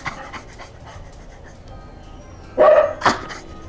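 A dog pants and breathes quietly, then gives two loud, close barks in quick succession near the end.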